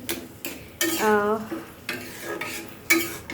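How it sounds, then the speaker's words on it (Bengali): A spoon stirs shing fish curry in a pan, a few rhythmic scraping strokes over a light sizzle, close and fairly loud, with a brief squeak partway through. "নেড়ে চেড়ে মিশিয়ে নিব খুব সুন্দর করে"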